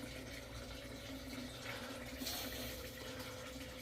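A tap runs steadily indoors to fill water for watering a few windowsill houseplants, a continuous close hiss of flowing water with no talk.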